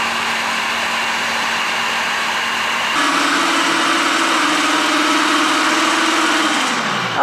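An electric mixer runs steadily through pastarelle cookie dough, a loud continuous whir that shifts up in pitch partway through and winds down at the end, with no talk over it.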